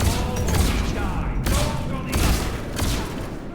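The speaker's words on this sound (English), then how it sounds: "Go, go, go! Cluster grenades!" Cluster grenade blasts in Mass Effect 3 form a dense, continuous rumble of overlapping explosions, loud and close, with a few sharper cracks mixed into the chaotic combat noise.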